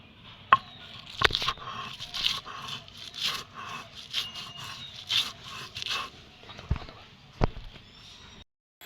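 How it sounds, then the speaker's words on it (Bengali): Fruit mixed with sand being crushed by hand with irregular pounding thuds and grinding scrapes, fairly close, pausing briefly near the end. "এবার এটাকে ভালো করে ছেঁচে নেবো"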